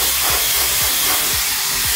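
A hair dryer blows a loud, steady roaring hiss close by while drying hair after a perm repair at a salon, with faint periodic low thumps underneath and no talking.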